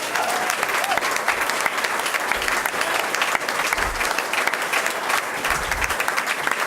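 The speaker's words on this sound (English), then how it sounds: "So let's give them a round of applause." Sustained audience applause at an honoring event, a dense steady wash of many hands clapping close and loud for nearly seven seconds with low thumps underneath.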